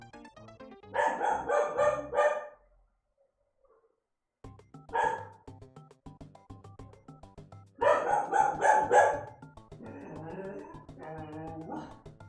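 A dog barks in loud, rapid bursts, a cluster of several sharp barks, then a lone bark after a pause, followed by another flurry and softer trailing yelps, close and otherwise quiet.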